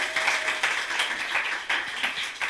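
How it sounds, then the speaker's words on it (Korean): Congregation clapping and applauding inside a church during a worship service, a dense steady wash of many hands throughout. "박수!"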